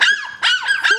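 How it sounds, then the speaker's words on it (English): Coton de Tulear puppies bark in three quick, high-pitched yappy bursts, loud and close, with no one talking. "Lyric's puppies are barking at me."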